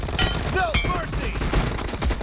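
Rapid gunfire from the battle-royale shooter PUBG Mobile, crackling bursts of shots layered over game effects and a faint voice, loud and busy throughout the short stretch.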